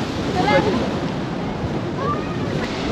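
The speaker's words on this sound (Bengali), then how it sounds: "এইদিকে সমুদ্রের ঢেউ" Sea waves wash at Shankarpur beach with a steady, rushing surf roar and wind buffeting the microphone, a voice faintly present over the noise.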